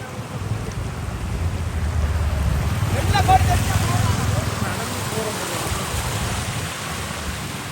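Steady roar of floodwater bursting through a broken pond embankment in Mannar, Sri Lanka, loud and continuous, with a voice faintly audible beneath it.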